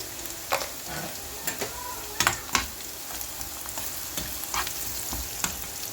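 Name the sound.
onions frying with spices in a pan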